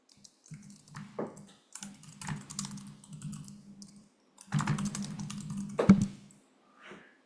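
Keystrokes on a computer keyboard entering a project name, arriving in quick bursts with short pauses between them, close and clear in a quiet room with no talking.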